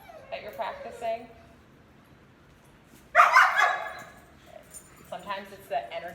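Dogs in a dog yoga class give a few short barks and yips, with a louder burst of barking midway and more scattered yips near the end, all close by and mixed with people talking.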